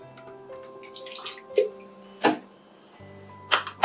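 Deionized water splashes in short pours into a plastic calibration cup for a turbidity sensor on a water quality probe, three brief gushes separated by quiet gaps with a faint background hum.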